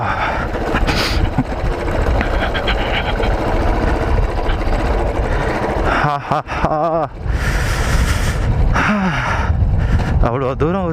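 Motorbike engine droning steadily while riding over a very rough, broken road, with wind rush throughout and a few brief dips and revving surges as the bike jolts along.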